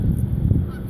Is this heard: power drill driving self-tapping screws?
no